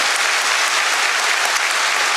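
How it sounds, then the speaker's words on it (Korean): Warm applause from a church congregation at a Sunday service, steady and dense throughout, with many hands clapping together and no voices over it. "여러분들 박수를 한번 뜨겁게 빛내주시기 바랍니다."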